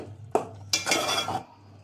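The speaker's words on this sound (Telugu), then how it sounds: "ఇప్పుడు కాసేపు మూత పెట్టేసి ఉడకనివ్వండి." A metal lid set onto a cooking pot of chicken kabsa biryani, a sharp clink followed by a louder rattling clatter as it settles, then quiet.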